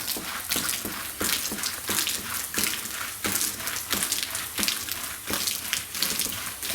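A pressure washer sprays plain water across a house's exterior wall, rinsing off soap already applied, a steady broad hiss with rhythmic surges as the spray sweeps back and forth.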